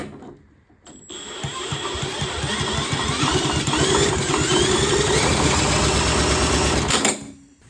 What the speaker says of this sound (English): spray a bit of brake cleaner in directly in the carb, straight in the engine, turn it over, and it should give us a cough at least